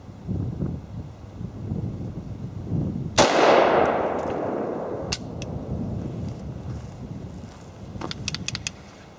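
An IWI Galil ACE pistol chambered in 7.62x39 fires a single sharp, loud shot outdoors, its report decaying over about a second, followed by faint clicks and handling noises.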